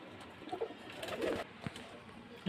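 Soft cooing from male pigeons at a pigeon sale in Beldanga, Murshidabad, sounds intermittently at moderate distance, a few low, throaty calls over faint background noise.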